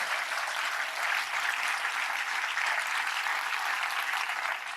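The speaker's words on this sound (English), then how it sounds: "another round of applause for the two directors" Applause from a film festival audience for two documentary directors, a steady wash of many hands clapping, moderately loud and even throughout, without speech.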